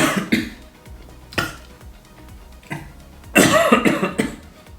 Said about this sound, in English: Just a little coughing fit.